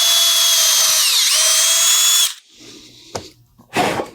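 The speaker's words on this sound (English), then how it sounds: "you're going to get a little pilot drill and you'll pilot drill your hole" A power drill runs a pilot hole into a wooden oar handle, whining loud and close for about two seconds with a dipping pitch before stopping, followed by a couple of brief knocks and rustles.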